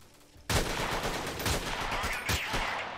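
Gunfire in the video game Freeman: Guerrilla Warfare, a sudden loud start followed by a dense, continuous barrage of shots with a few sharper bursts standing out, no voices over it.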